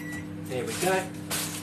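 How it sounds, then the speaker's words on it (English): A microwave oven hums steadily through a kitchen, its low drone running under a person talking nearby. "I've actually got a second microwave. I'll pop it in for another couple of minutes"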